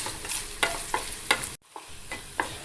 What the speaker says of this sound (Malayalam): ആദ്യം നമുക്ക് തേങ്ങാക്കൊത്തൊന്ന് വറുത്തെടുക്കാം.